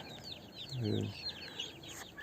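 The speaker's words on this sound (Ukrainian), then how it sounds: "тут я тримаю качок та курей" Chickens cluck softly in an outdoor enclosure shared with ducks, while small birds chirp steadily in the background.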